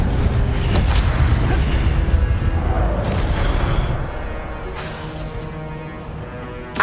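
Incendio fire spell cast in Hogwarts Legacy, a roaring, booming burst of flame that rumbles loudly for several seconds before tapering into quieter game ambience.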